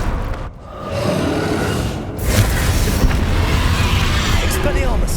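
Confringo spell explosion in Hogwarts Legacy: a sharp, booming blast about two seconds in that gives way to a loud, rumbling wash of battle noise, with voices talking over it.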